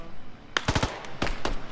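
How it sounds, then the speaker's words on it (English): Close gunfire in the tactical shooter Squad sounds as a quick cluster of sharp cracks followed by two more separate shots, loud and short with no talk. "we're getting shot at"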